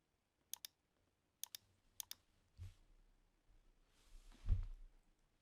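Typing on a computer keyboard while coding in Python for a Cozmo robot: three quick paired clicks spaced apart, followed by a few soft thumps and faint low rumbles.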